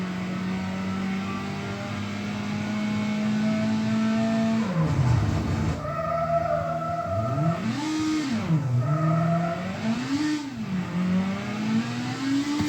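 A video-game car drives the wrong way down a street, its engine humming steadily and then rising and falling sharply through revs as the tires skid and squeal, loud and close.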